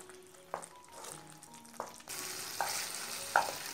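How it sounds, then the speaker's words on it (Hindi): Spice masala fries in a pan over a high flame for chicken changezi, a quiet steady sizzle under a few soft stirring clinks, turning brighter and hissier halfway through. "अब गैस की फ्लेम हाई कर देंगे और हाई फ्लेम पे हमें इसे 3 से 4 मिनट तक के लगातार चलाते रहना है।"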